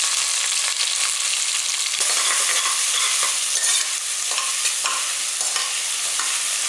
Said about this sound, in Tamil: பாருங்க வெங்காயம் இப்போ வதங்கிட்டு இருக்கட்டும்